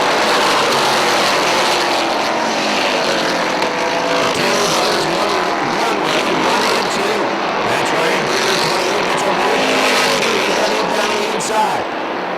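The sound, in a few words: dirt modified race cars racing around a speedway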